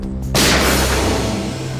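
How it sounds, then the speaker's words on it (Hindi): A single loud, sharp blast erupts after a brief quiet moment, followed by a sustained booming rumble and hiss that slowly fades. "गोली चलने की आवाज इस तरफ से,"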